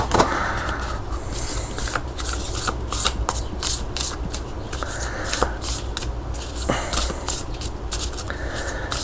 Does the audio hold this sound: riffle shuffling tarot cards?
yes